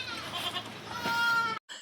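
A goat of about 20 kilograms bleats at a hillside goat shed in the forests of Attappadi, one long wavering bleat filling most of the moment, then a brief gap before another begins.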